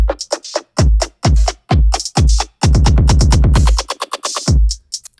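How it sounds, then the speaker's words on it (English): An electronic kick drum and snare join the beat, deep booming kicks with tight hits, building into a rapid roll of kicks before a final thump, loud and up close with hi-hats ticking above. "Now the kick drum and the snare."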